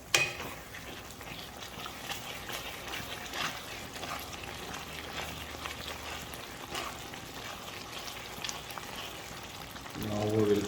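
Chicken, mushrooms and prawns cook over a high flame in Italian herbs, giving a steady, moderate frying sizzle that runs throughout with faint clatter, growing a little louder at the end.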